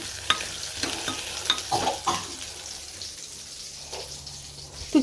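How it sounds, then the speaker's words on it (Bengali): Pointed gourd (potol) fries in a pan, a close, continuous sizzle broken by scraping stirs and clinks of a spatula against the metal, with no voices. "একদিকে হচ্ছে পটল ভাজা"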